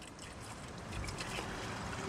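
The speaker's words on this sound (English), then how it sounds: "So all you have to do, open it up, pour it directly" Fluid being poured straight from a bottle into a car's under-hood reservoir without a funnel, a steady close gurgling trickle that runs unbroken for the whole stretch.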